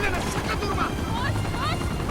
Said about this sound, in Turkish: Eyvah gene geliyor bir helikopter.